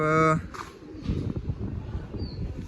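A pigeon gives one short, loud, tonal coo at the start, then people talk nearby for the rest.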